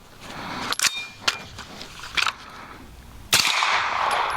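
Semi-automatic AR9 rifle fitted with a KynShot buffer firing a few spaced single rounds, sharp loud cracks with short echoing tails, outdoors.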